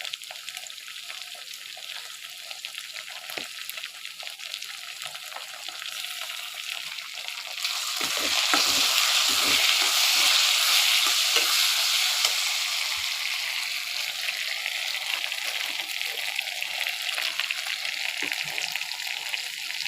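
Minced meat fries in a pan with tomato sauce added, a steady sizzle that swells louder midway as the sauce hits the hot pan, with occasional stirring scrapes.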